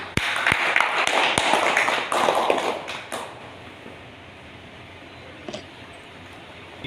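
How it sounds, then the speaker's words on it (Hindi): Scattered clapping from a small gathering at a Bhagavad Gita group session, a burst of claps for about three seconds that fades quickly into quiet room tone with a few stray taps. "जोरदार ताली की गुजारिश।"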